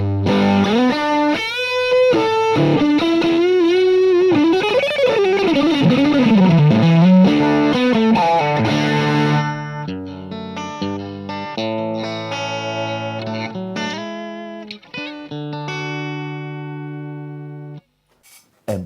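Electric guitar played through a distorted amp with effects, first a sustained, bending lead line, then choppy chords and short stabs that end in a few isolated hits.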